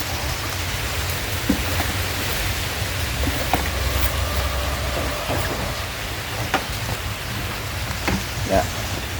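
Steady rain patters down outdoors around a chicken feeding area, a dense even hiss with scattered louder drops and a faint low rumble underneath, no voices.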